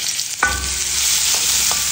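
Garlic drops into hot oil in a home kitchen, setting off a sudden bright sizzle that settles into a steady frying hiss, with a couple of soft stirring clinks.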